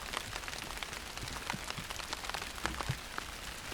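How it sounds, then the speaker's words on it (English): Heavy rain pours steadily outdoors, a dense continuous hiss of drops striking surfaces, with scattered louder individual splats close by and no voices. "Today it's raining really hard"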